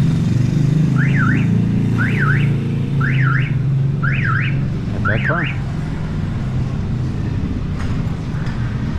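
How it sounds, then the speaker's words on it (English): A car alarm on a street sounds five rising-and-falling siren sweeps in quick succession, moderately loud above a steady rumble of passing traffic and motor noise. "kick off some people's alarms, some car alarms and stuff"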